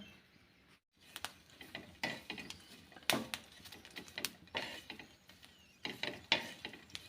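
Green chillies roasting on a hot tava griddle give off quiet, irregular crackles and sharp little pops, close by, with short bursts scattered over a soft background and no talk.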